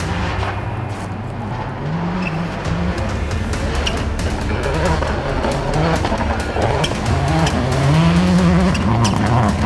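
A yellow Subaru rally car charges along a stage at the Idaho Rally. Its engine snarls and revs through rising and falling gear pulls, loud and close with a gritty tire and gravel roar beneath.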